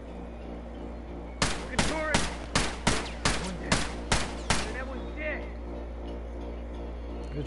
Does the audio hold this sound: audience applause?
no